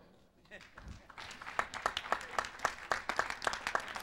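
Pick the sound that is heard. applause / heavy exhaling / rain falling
applause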